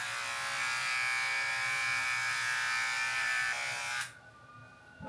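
An electric shaver buzzes steadily against a beard for about four seconds, close and loud, then switches off, leaving quiet room sound.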